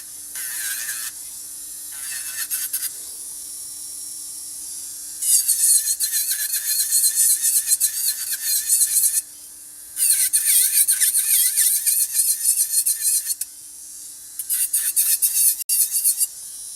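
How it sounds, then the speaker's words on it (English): An electric nail drill fitted with a 180 grit sanding band whines in bursts while filing builder gel nails, high-pitched buzzing and grinding sections separated by quieter pauses, close up and without talk. "I'm gonna using the sanding band is 180 grit"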